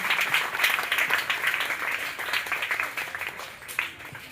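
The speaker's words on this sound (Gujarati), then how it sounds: "જોરદાર તાળીઓથી આવેલ મહેમાનોનું આપણે સ્વાગત કરીએ છીએ" Children and audience at a primary school in Porbandar clap loudly to welcome guests, a lively, somewhat uneven burst of clapping with surging bursts that gradually tapers off.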